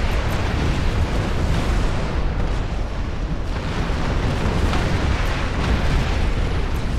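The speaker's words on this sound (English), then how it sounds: "Lots of explosions. That's good." Continuous dense rumbling video game explosions and blasts roar without pause, loud and broadband, like a heavy battle barrage, in Star Trek Online.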